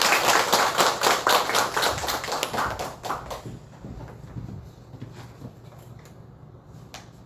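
A church congregation applauds together during a Sunday service, a burst of steady claps that fades out after about three seconds, leaving quiet room tone with a few scattered late claps.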